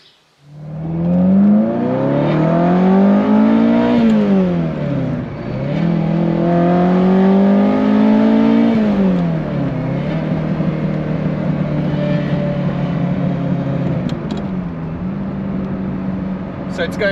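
A Ferrari 308 engine with a fault, running steadily under load while driving, with a loud continuous drone that rises and falls in pitch as the revs build and drop through several gear changes.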